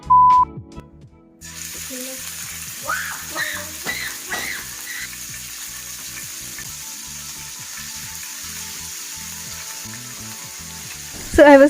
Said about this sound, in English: I started frying the chicken in the oil.